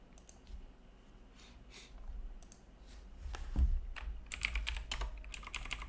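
Rapid keystrokes on a computer keyboard during a day-trading session, clattering in bursts that grow louder and denser toward the end, with no voices.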